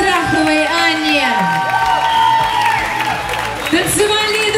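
A crowd claps and cheers loudly for dance couples at an open-air pro-am ballroom competition in Kyiv. Sustained applause and whoops fill the whole stretch, with an announcer's voice over the top.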